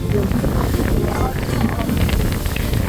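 Heavy wind buffets the microphone in a constant low roar, with muffled voices underneath.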